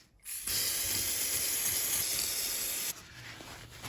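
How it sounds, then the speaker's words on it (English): A single continuous hiss of aerosol brake cleaner sprayed onto an oily area of a Ford Ka during reversing light switch replacement, lasting about two and a half seconds, close and loud. "give him a squirt of brake cleaner around that area to get rid of any oil residue"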